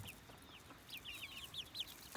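A rooster clucks in a short series of soft, close calls over a low farmyard background, with no talk.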